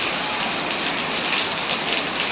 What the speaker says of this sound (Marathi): शूटिंग चालू असतानाच पाऊस आला आहे, तुम्ही बघू शकता.